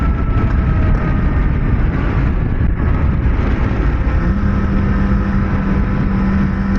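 Engine of a Kawasaki Ninja ZX-4RR motorcycle while riding, a loud steady drone with constant rumble and a sustained tone settling in partway through, with no talking over it.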